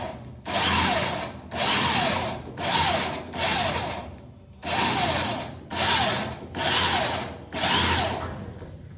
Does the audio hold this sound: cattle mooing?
no